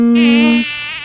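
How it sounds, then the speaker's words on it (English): Tiny insects around a pond give a close, loud, steady whine with a rich harmonic buzz lasting about a second, dropping slightly in pitch partway through. "the tiny insects are buzzing around"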